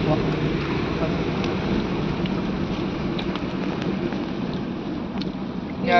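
Steady rain hisses continuously, a dense even patter heard from inside a car driving through Bandipur Tiger Reserve, with faint voices murmuring underneath.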